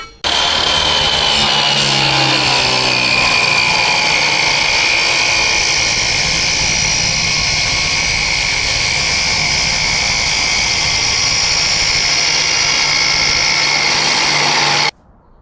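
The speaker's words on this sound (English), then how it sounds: "we can start fish mouthing it with a grinder" An angle grinder fish-mouths the end of DOM steel tubing for a Cobra Daytona chassis, giving a loud, steady, high whine for about fifteen seconds that stops abruptly at the end.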